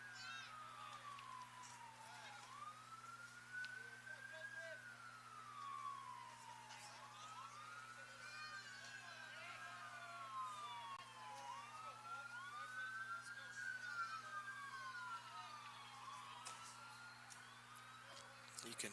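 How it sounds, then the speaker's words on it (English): Police sirens wail from passing highway traffic near a baseball field, rising and falling in repeated slow sweeps at moderate distance, under a steady low hum and talk. "You can hear the sirens on the highway going by."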